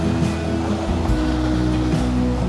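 Strong ocean waves breaking at the shore, a loud, continuous roar of surf with low rumbling swells surging throughout, close by and with no voices over it.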